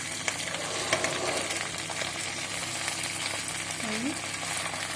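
A chicken, spinach and mushroom filling fries in a pan as it is stirred, a quiet steady sizzle with occasional light scrapes and taps, and a brief faint voice near the end.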